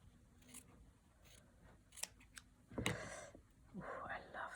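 Scissors snipping fabric for layered slow-stitching, a few quiet crisp cuts near the end with soft rustling, close by, with faint talk in the background.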